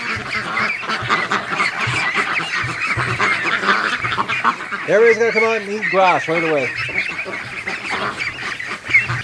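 Muscovy ducks and geese honk in a short burst of loud, nasal calls midway through, while a person talks steadily over outdoor background noise.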